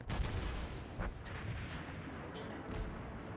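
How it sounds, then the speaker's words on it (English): Naval gunfire from World of Warships, shells from the light cruiser St. Louis's opponent booming and thudding in repeated heavy bursts against the ship, fairly quiet with rumbling low impacts. "And this guy's fucking shooting at me too."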